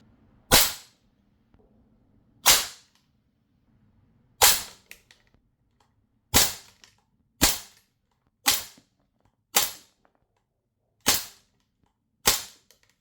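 Umarex AR-15 Strike Force automatic airgun firing nine sharp, loud single shots at uneven intervals of one to two seconds, each a crisp crack with a quick decay and near silence between.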